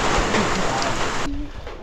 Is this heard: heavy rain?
yes